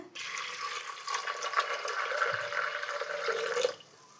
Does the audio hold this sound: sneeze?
no